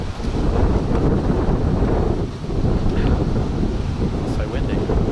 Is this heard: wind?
yes